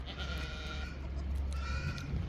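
A goat offered for sale at a home livestock sale bleats faintly a few times over a low background hum, with quiet animal sounds around it.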